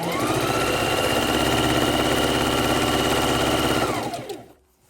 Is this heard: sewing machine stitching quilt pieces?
yes